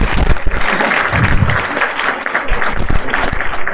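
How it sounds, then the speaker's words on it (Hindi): Applause for the Chamoli district team at an official award ceremony, a dense, steady patter of many hands clapping throughout, fairly loud and continuous with some background murmur. "चमोली की टीम को और तालियां मिलनी चाहिए प्लीज।"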